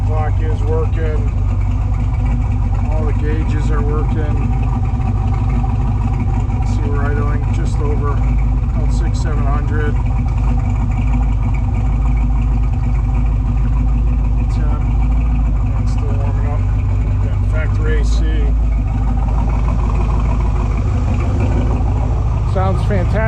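A 1967 Corvette C2 convertible engine idles steadily through side exhaust with a deep, even rumble, running continuously throughout with no revving.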